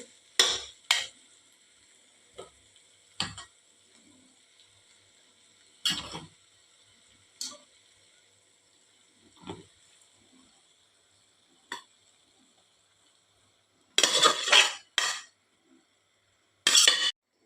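Scattered scraping and clinking as cooked rice is stirred into vegetables in a pan for fried rice, separate strokes spaced out over quiet gaps, with a quick cluster of clanks near the end.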